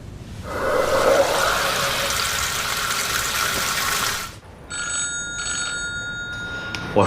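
A mobile phone rings during a meeting: a loud, continuous electronic ring runs for about four seconds, then a softer, pulsing ringtone follows in bursts, with no talking.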